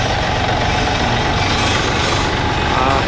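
A Yanmar F210 tractor engine running in gear, a steady loud low rumble with an even broadband drone throughout, close by and without talk.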